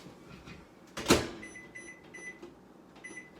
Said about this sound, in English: I'm gonna pop our cheese dip in the microwave now.